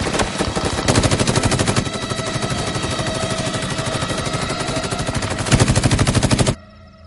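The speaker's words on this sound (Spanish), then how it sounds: "¡Disparen!" Sustained machine gun fire from a war film hammers on in a dense, rapid, loud stream for several seconds, with heavier bursts near the start and end before it cuts off abruptly.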